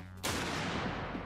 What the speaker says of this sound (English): I say we hit it with one more slap round, but this time aim for the thickest part of the fire hydrant.